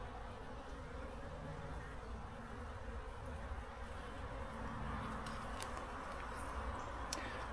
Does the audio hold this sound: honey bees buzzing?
yes